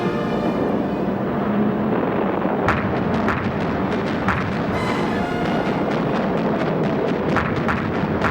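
WWII anti-aircraft artillery fires during a night air defense against bombers, with repeated sharp booms and cracks over a dense, continuous rumbling roar.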